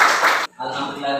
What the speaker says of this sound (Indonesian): terima kasih untuk satu tepuk tangan untuk satu